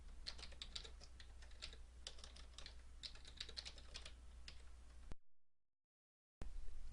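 Steady close typing on a computer keyboard at a spreadsheet, a continuous run of quick key clicks with a few louder taps, then a short break in the sound before the keystrokes resume.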